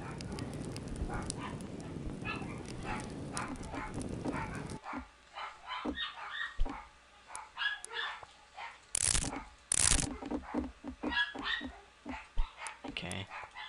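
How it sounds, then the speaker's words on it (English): Several dogs bark in short, irregular bursts close by, with some yips mixed in. The first few seconds sit under a dense rumbling background, and the barking then carries on over quieter surroundings. "My dogs are barking."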